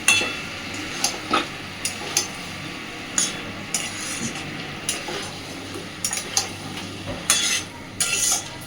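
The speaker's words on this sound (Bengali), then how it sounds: "দিয়ে মিনিট 5-7 মশলার সাথে খুব ভালোভাবে কষে নেব সব কিছুকে।" Pointed gourd, potato and prawns sautéing in spices in a pan, with a steady close sizzle and intermittent scraping strokes of a spatula against the pan.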